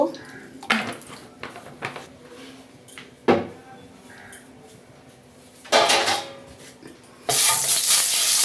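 Oil goes into a wok on the stove and heats, with kitchen clatter and bumps of the pan, then a loud burst of hissing sizzle near the end, close by.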